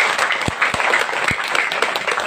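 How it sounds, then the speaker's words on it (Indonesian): An audience at a talk show held at an Islamic boarding school applauds in an even, continuous wash of clapping, with a few louder individual claps near the front. "Beri tepuk tangan."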